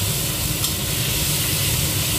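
Food fries steadily in a hot pan, a dense continuous sizzle and hiss at close range with no talking.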